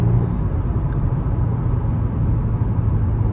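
Heard from inside the cabin, a 2018 Audi A5 Sportback accelerates under throttle, with a steady, loud engine drone and road rumble holding constant throughout.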